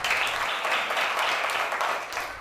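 Many hands clap together in a dense, steady patter that holds at an even level throughout, with no voices standing out.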